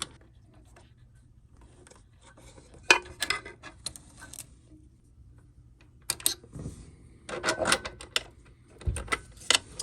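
Small metal clicks, taps and scraping ticks come in scattered bursts as set screws are worked loose and removed from the rollers of a PLS laminator, close and fairly quiet over a low background hum.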